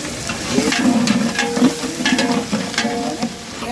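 Curry leaves and dried red chillies frying in hot oil in a pan for a carrot fry tempering, giving a close, crackling sizzle with bursts of popping and stirring scrapes throughout.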